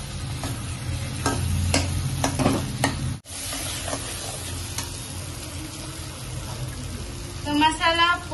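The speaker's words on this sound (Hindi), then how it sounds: "तो अभी जो बॉईल किया हुआ आलू है वो दे रही हूँ, इसको अभी मसाले के साथ बना लेंगे" Boiled potatoes fry with masala in a pan, a close sizzle under repeated scraping and stirring strokes, with a brief break partway through and someone speaking over it.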